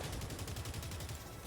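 Orbital strike firing in a mech combat video game: a rapid, steady train of heavy low thuds with broadband crackle that runs unbroken and loud for the whole moment, with no talk over it.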